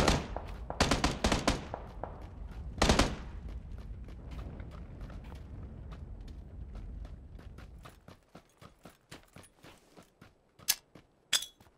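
Gunfire in the video game PUBG on the Miramar map, with several rapid bursts and sharp single shots from more than one shooter early on, then scattered, fainter pops and clicks as the action thins out.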